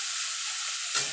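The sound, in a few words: bitter gourd frying in a pan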